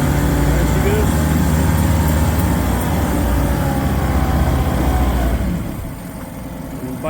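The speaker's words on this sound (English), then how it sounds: "Back down to a nice steady tick over." A Volvo engine idling at a steady tick over, a dense, even low drone close by that eases and quietens in the last seconds.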